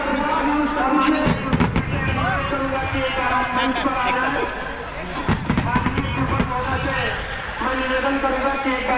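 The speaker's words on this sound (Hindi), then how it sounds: "एक तरफ आसमान में आतिशबाजी" Diwali fireworks burst over the Saryu riverbank ghats in Ayodhya, sharp cracking bursts coming in two clusters above continuous loud crowd noise and music, with people talking throughout.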